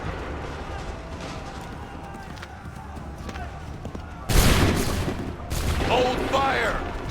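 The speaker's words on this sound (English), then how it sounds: "Make ready! Fire now!" A musket volley from soldiers in Assassin's Creed III, with a sudden loud burst of overlapping shots partway through, set against battlefield noise and shouted voices.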